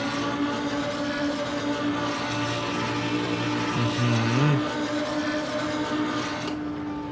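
Lamborghini engine droning steadily at high speed in sixth gear in Assetto Corsa, a loud sustained tone with a brief pitch wobble midway, no talking.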